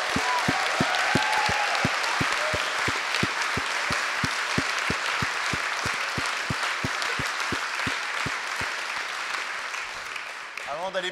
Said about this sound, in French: Est-ce que on peut s'applaudir tous, s'il vous plaît?